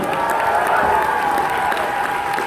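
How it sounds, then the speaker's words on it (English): A crowd applauds and cheers steadily, a dense wash of clapping with whoops mixed in, sustained throughout. "one more round of applause for Safo!"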